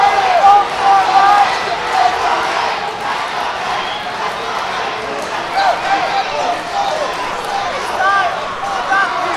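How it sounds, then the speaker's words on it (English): A fight crowd chants "Let's go, Quade" during the Aaron Quade versus Victor Wilcurt bout, a dense, steady roar of many voices filling the whole stretch with rhythmic swells, and a commentator's voice rising over it at moments. "you can hear the crowd chanting, "Let's go, Quade, let's go, Quade.""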